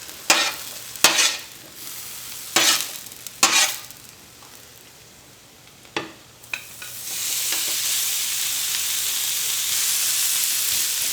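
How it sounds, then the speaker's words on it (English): Vegetables and sliced ribeye sautéing on a flat top griddle, with sharp metal scraping and stirring strokes over a steady sizzle that swells into a louder, continuous frying hiss toward the end; no one speaks. "we're gonna let those saute, keep an eye on them"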